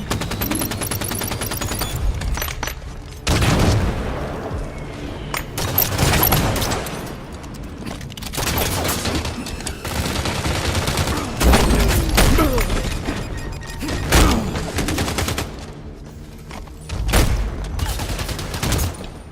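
Rapid bursts of automatic gunfire and booming shots from the Halo 5 beta, loud and close, with short pauses between volleys and occasional heavier blasts.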